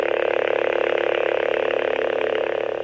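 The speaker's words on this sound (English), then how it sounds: "Now I'm gonna show you guys a close-up of how it sounds when it's humming." A custom toy lightsaber from Galaxy's Edge gives off a steady, loud electronic hum held close, with a dense buzzing drone and a slight rhythmic flutter, no voices over it.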